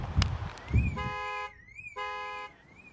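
Vauxhall Ampera car alarm sounding when its charging cable is unplugged, loud repeated electronic tones in two bursts, preceded by a couple of sharp clicks or thumps.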